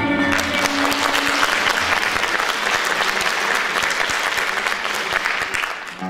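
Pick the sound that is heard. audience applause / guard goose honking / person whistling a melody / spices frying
audience applause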